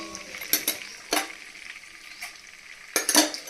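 Cumin seeds hit melted butter in a hot pan while pav bhaji is cooked at home, giving a soft sizzle broken by several sharp clinks of a utensil against the pan.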